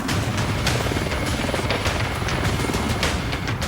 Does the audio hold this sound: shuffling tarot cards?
no